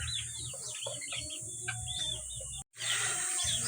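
Newly vaccinated chicks peeping in a steady, overlapping chorus of high chirps, close and continuous, with a brief dropout near the end before the peeping resumes.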